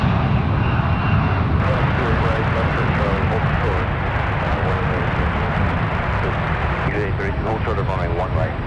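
Airbus A380 airliner passing overhead during a go-around at San Francisco, a broad sustained jet roar with a loud, steady rumble throughout while someone talks over it.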